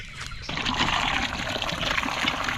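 Water gushes and splashes out of a hand pump on a farm steadily after a brief quieter start, a close continuous pour with no voices.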